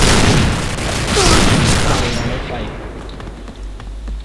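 Rapid gunfire in the online shooter Point Blank: loud, dense bursts and booming shots crowd together at first, then thin out into scattered pops as the firing fades, with a player's voice now and then.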